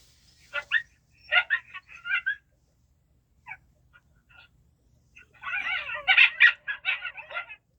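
Recorded coyote chattering and chipping played from an electronic predator caller, two bursts of yappy, high yips and chatter separated by a near-silent pause, the second burst longer and denser.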